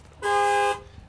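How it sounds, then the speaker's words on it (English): A 2007 Chrysler 300C alarm sounds one loud, steady horn blast of about half a second, close by with nothing else over it. "Yeah, the alarm goes off."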